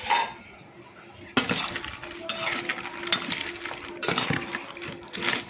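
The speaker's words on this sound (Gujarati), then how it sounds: "હવે આને આપણે મિક્સ કરી દઈશું." A spoon stirring corn poha chaat with chopped tomato and onion in a dish, giving a steady run of close scraping clinks against the bowl with a few sharper knocks, alone without talk.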